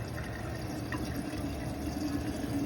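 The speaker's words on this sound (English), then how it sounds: "the water goes into the drain and goes away forever, and does not back up into the sink." Dishwasher drain water flowing steadily into a kitchen sink drain, a continuous close rushing wash with no talking.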